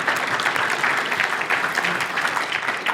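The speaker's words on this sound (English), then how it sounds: "We can clap it up for Jeff." Steady, dense audience applause at a business pitch event, loud and continuous throughout with no pauses, many hands clapping together in a large room.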